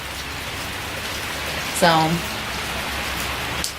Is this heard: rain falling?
yes